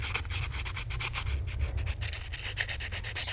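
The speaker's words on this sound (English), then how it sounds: "I just take this hook and I just start scrubbing it with the sandpaper" Sandpaper scrubs rust off a steel fishing hook in quick, steady rasping strokes, close and continuous with a rhythmic back-and-forth scratch and no voices.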